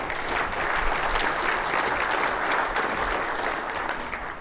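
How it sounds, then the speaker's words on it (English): Audience applause fills a conference room at a NetBox Labs product launch, steady dense clapping held loud for several seconds with no talking. "So big round of applause for all of yourselves."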